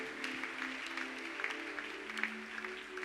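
A church congregation applauds to acclaim the Lord, a dense, steady round of clapping with a sustained musical tone underneath, with no voices on top.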